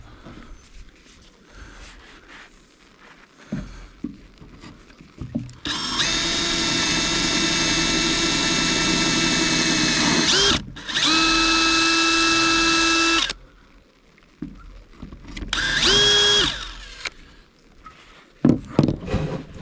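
A power drill boring a pilot hole in a boat, close and loud, whining in a sustained burst, then a second burst, and after a pause a short final spin-up, with light handling clatter between runs.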